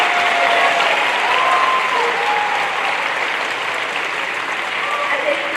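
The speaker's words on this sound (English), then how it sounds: "let's give one more big round of applause to Ms." Sustained applause from a school assembly audience after a jazz band performance, a dense steady clapping wash filling the room with faint voices mixed in.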